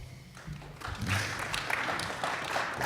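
Applause at a business policy conference session, scattered clapping that builds from a few hands into a fuller but still modest round, fairly faint and distant.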